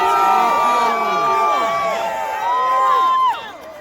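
A crowd at a White House event cheers and shouts loudly and continuously, with whoops and high voices rising over a dense roar of many people.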